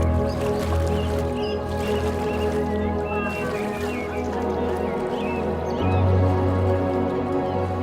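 A small wooden boat with plank seats moves across water around a floating grass-island homestay in a roadless area, a steady low motor drone with soft watery splashes and dripping close by.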